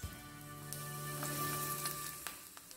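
Almonds and date pieces sizzle steadily in hot ghee, a close, continuous crackling fry with scattered small pops throughout, no voices.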